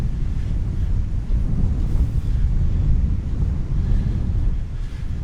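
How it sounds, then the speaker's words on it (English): Strong northwest wind gusts across a Gulf beach at Delnor-Wiggins on a rough day, a steady roaring rumble with the wash of surf blended underneath, continuous and close to the microphone, no voices. "The wind now is coming out of the northwest."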